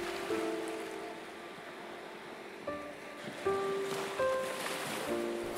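Ocean waves wash in a soft, continuous surge, with gentle tonal notes drifting over the top and no voices.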